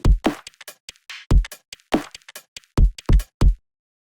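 Drum groove with kick, ghost kick and snare hits and no percussion buzz layered in: sharp, dry, separated strikes in a syncopated pattern, loud and close with silence between hits.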